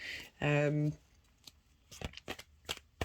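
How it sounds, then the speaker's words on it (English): Tarot cards shuffled by hand during a new-moon reading, heard as a run of quick papery riffles and soft slaps, close and fairly quiet, after a brief louder tonal sound near the start. "they're wanting me to keep shuffling"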